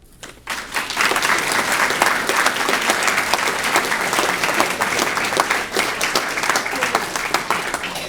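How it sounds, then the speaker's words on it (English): An audience at a high school distinguished alumni hall of fame ceremony bursts into sustained, loud applause, dense clapping that holds steady for several seconds without talk. "can I have another round of applause for"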